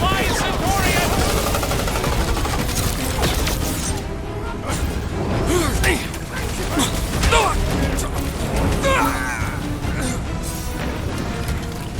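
Continuous combat gunfire and blaster shots in Marvel's Guardians of the Galaxy, dense and loud with mechanical clatter, overlaid by character voices talking throughout.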